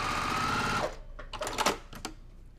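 A sewing machine with a quarter-inch foot runs steadily while stitching a quilt four patch, a close, even mechanical whir that stops after about a second and is followed by scattered clicks and handling noises.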